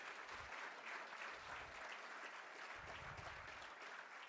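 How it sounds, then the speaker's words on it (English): An audience at a lecture at the MLK Freedom Center applauds, a steady wash of many hands clapping for several seconds, fairly distant and even, with low rumbles underneath and no one speaking. "one more round of applause for Ari."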